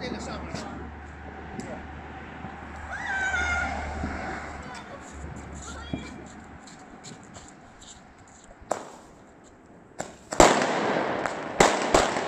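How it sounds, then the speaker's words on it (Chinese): Strings of firecrackers crackle and pop during a Lunar New Year's Eve family dinner by a parked RV, with dense bursts and sharp bangs building toward the end over background chatter and talk. "好嘞，放鞭炮喽！"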